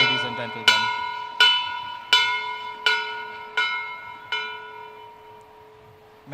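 A bell struck six times in a slow, steady rhythm at the opening of a leadership development program event, each ring clear and close with a long ringing decay, sounding alone without talk.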